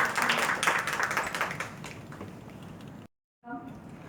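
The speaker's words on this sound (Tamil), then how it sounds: "உங்கள் கைத்தட்டலுடன்." Audience at a Singapore women's gathering clapping to welcome a speaker, a steady patter of applause that tapers off before a brief dropout, after which a voice begins talking.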